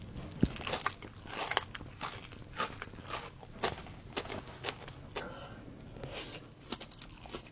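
Repeated crisp bites into a crunchy pistachio biscuit, several sharp crackling crunches spread through the clip at close range, with chewing between them and no talking.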